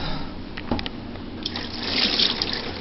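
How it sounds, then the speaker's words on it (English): Broth poured slowly into a cooler holding a turkey for brining: a continuous close liquid trickle and splash that grows fuller toward the end, with no speech. "You pour in this wonderful broth."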